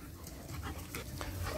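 A German Shepherd pants quickly and lets out soft whimpers at close range, quiet and brief, with no voices over it.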